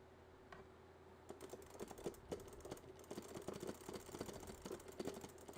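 Rapid, uneven clicking from the red knob of a fight stick, a dense run of small sharp clicks over a faint steady hum, close and fairly quiet.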